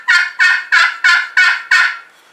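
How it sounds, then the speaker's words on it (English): A wild turkey gobbles in answer to basic yelp calls, six rapid rattling bursts in a row, loud and fairly close, followed by a fading tail and no talking. "he just gobbled"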